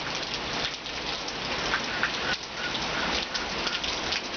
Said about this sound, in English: Looks like we've had some rain. I can hear it dripping down.